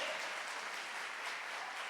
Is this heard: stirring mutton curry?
no